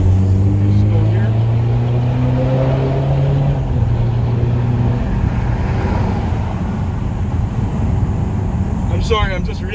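A powerful engine of a modified BMW 520d rumbles loudly nearby, its deep tone rising and falling with revs, and a voice talks briefly near the end.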